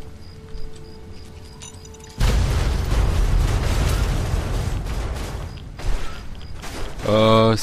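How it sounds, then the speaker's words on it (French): A bazooka blast in a video game hits as a sudden loud boom, leaving a long, dense rumbling roar that fades into smaller bursts and mechanical game sounds. "C'est pas un sniper, c'est un mec qui a un bazooka"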